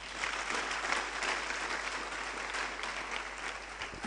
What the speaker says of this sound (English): deserves a round of applause